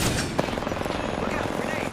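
Continuous gunfire in a multiplayer shooter video game, a dense rattle of overlapping shots with one sharper crack, loud and busy over background game noise.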